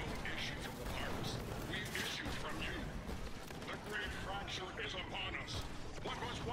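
Bursts of gunfire in the video game Cyberpunk 2077, rapid dense shots mixed with game effects and a raised voice, loud and cluttered throughout.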